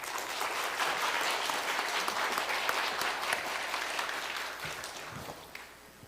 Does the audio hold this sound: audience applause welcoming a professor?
yes